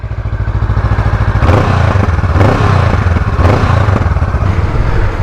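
A new Honda Rebel 500 motorcycle rides along a road in India, its engine droning loud and close with steady throttle pulses and a few surges as the rider accelerates.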